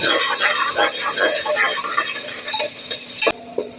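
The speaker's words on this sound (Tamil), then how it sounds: "தேங்காய் எண்ணெய் எண்ணெய் நல்லா காஞ்சிருச்சுமா வெங்காயம் போட்டுக்கலாம்" Three large onions fry and get stirred in hot coconut oil for a mutton curry, giving a steady close sizzling hiss with scraping stirs, while someone talks over it.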